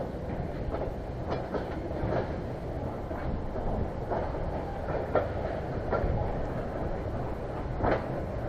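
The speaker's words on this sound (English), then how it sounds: "I also had my GoPro out to get another shot of the excursion train, this time with 4005 pushing." Excursion train rolling past with locomotive 4005 pushing, a steady low rumble with repeated clicks of wheels over rail joints, heard from nearby with no talk.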